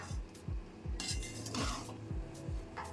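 A spatula or spoon scrapes and knocks against a pan while soy sauce is mixed into fried rice, repeated rhythmic scraping strokes at close range with light metallic clinks.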